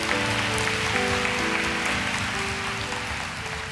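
A church congregation claps in a steady, continuous round of applause, with sustained keyboard or organ chords playing underneath throughout.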